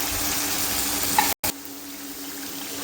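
Onion and garlic paste frying in hot oil in a home kitchen pan, a steady close sizzle with a brief break partway through, no talking.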